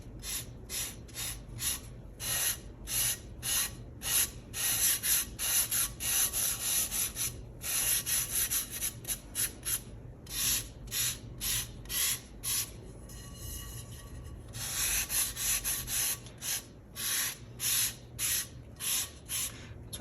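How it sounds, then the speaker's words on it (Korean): Close-up rhythmic rasping of fine sandpaper rubbed over fired pottery, short strokes repeating steadily with brief pauses. "사포를 이용해서 거칠다고 느껴지는 부분을 다듬어 줄게요."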